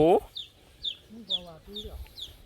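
A chicken clucks repeatedly nearby in short, chattering bursts, with a brief louder squawk at the start.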